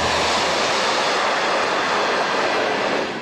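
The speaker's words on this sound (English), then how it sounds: "Test trains are now being run at full speed on the Gippsland line" A loud, steady rushing roar of a V/Line test train running at full speed on the Gippsland line after track reprofiling, sustained and close throughout with no gaps.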